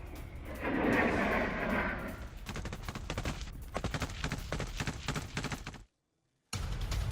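Dense volleys of gunfire and artillery in Ukraine war combat, with rapid, crackling bursts and heavy booms overlapping continuously before a brief dropout of silence, then resuming loud.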